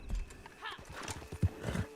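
Horse hooves clip-clopping with a whinny in a Red Dead Online style video game, a quick run of close, rhythmic hoofbeats, with speech also present.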